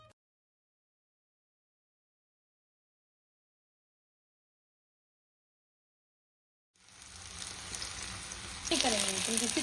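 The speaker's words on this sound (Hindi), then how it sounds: "तो थोड़ा सा करारे करारे से और फ्राई कर लेते हैं" Food frying crisp in a pan sizzles in abruptly after a long silence, then grows louder near the end as a voice speaks over it.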